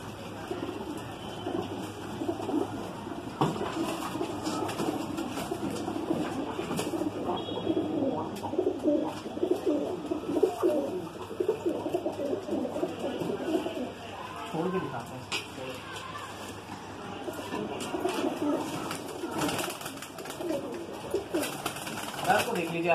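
Madrasi pigeons coo continuously in a low, busy murmur, with occasional wing flaps, while someone talks over them at length.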